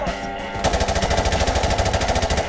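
Automatic gunfire in the video game Call of Duty 4: Modern Warfare Remastered, a rapid, even burst of loud shots that starts after a brief lead-in and continues without pause.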